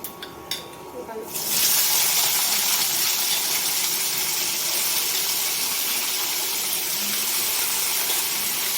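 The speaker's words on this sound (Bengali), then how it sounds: "পাঁচফোড়ন দিয়ে দিলাম, দিয়ে একে উচ্ছে আর আলু ভাজবো প্রথমে।" Bitter gourd and potato frying in hot oil with panch phoron spices: after a few light clinks, a steady, loud broadband sizzle sets in and holds evenly to the end.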